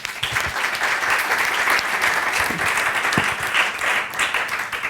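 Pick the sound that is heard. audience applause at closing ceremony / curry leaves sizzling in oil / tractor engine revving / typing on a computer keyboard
audience applause at closing ceremony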